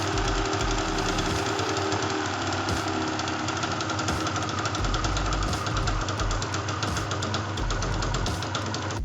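A Suzuki TS200R dirt bike engine runs steadily after a carburetor adjustment, a loud continuous rapid knocking two-stroke drone with no talk over it.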